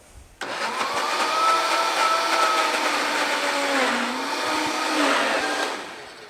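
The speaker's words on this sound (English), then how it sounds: "So with the blender running, we're going to add the milk." A blender purees tofu and spinach with rice milk. It kicks in abruptly and runs as a loud, steady whirring drone for about six seconds, its pitch sagging and rising as the load shifts, with no talk.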